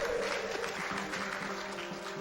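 An audience at a GDQ speedrun marathon claps in a soft, continuous patter of applause, fairly distant and evenly sustained for a couple of seconds.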